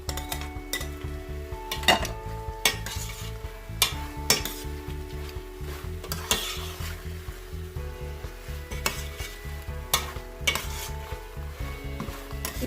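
Beef short ribs sizzle steadily in a hot pan while a utensil scrapes and clinks against the metal, stirring in repeated close strokes with no voices.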